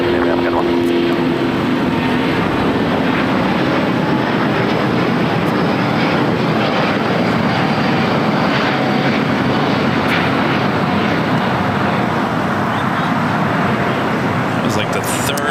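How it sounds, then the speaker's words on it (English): A Delta Airbus A350 departs LAX bound for Atlanta, its jet engines giving a loud, steady broadband roar that holds throughout, with voices underneath. "Like the third A350 flight heading to Atlanta. That was Delta 528."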